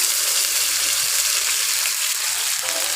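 Curry paste hitting hot oil in a kadai while making kadai paneer, giving a loud, steady hiss of sizzling that continues without a break, no talking.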